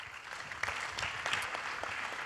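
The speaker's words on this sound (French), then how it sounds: "On l'applaudit aussi." Steady applause from an audience at a French-language conference panel on Europe, China, the US and Russia, a dense even patter of many hands with a few sharper claps, moderately loud and without speech.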